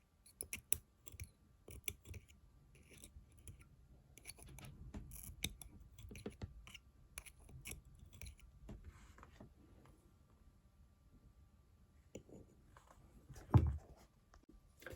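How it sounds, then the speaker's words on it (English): A small tool scrapes dirt and lint out of the side seams of an iPhone 11, making faint, close scratchy clicks and scrapes in irregular bursts, with one sharper knock near the end. "I'm going to use my tool, which sort of can hook into the sides here and kind of just pull up the dirt."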